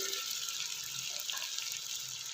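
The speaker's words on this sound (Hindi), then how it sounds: "ये जो कुकर में जो ग्रेवी लगी हुई थी उसमें मैंने थोड़ा सा पानी शामिल किया और मैं इसमें ऐड कर रही हूँ" Water is poured into leftover mutton biryani gravy in a pressure cooker, a continuous hissing splash with faint metallic clinks.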